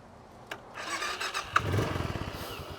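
A 2018 Suzuki Boulevard S40 motorcycle engine cranks briefly, then catches and fires into a quick series of pulsing beats as it settles, recorded close and fairly quiet.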